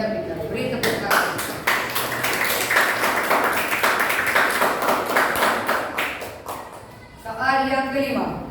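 A classroom group claps together for a correct answer in a religious lesson, a quick burst of dense clapping that swells, holds for several seconds, then fades before a voice speaks.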